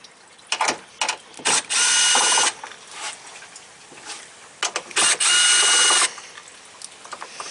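A ratchet wrench with a 10 mm socket works on the condenser bolts of a 2010 car, giving short clicking bursts followed by two long, loud, rapid ratcheting runs, close up and with no voices.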